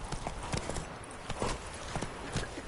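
Horse hooves gallop in a video game, a quick run of clip-clop beats in uneven clusters at moderate volume over a faint background bed.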